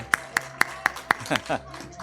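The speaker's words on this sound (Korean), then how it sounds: "우리 박수로 환영하겠습니다." At a Sunday worship service, five crisp, evenly spaced claps ring out close by, then give way to someone speaking.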